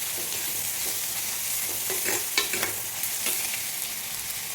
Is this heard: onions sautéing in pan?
yes